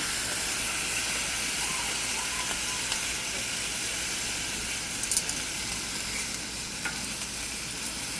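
Corn steaming with added water on a family barbecue grill during camping, a steady close hiss and sizzle of steam and cooking that runs unbroken throughout, with no voices.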